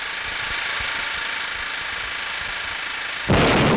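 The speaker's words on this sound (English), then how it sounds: "Bulldozers clear the last stretches of some of the worst terrain in the world." Bulldozers clear rough road terrain in 1945 wartime archival film: a continuous, dense engine rumble and clatter that jumps to a louder, harsher roar in the final moments.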